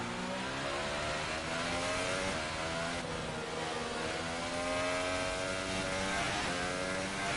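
The high-revving engine of an F1 car in F1 2018 whines steadily as it slides around on a slippery wet track, its pitch rising and falling with the throttle and no break in the sound.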